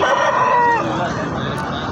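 A rooster crows with a drawn-out call amid a busy crowd of murmuring voices and general market bustle at a rooster and chicken market in Narikalpatti, Tamil Nadu, during the Aadi Perukku festival.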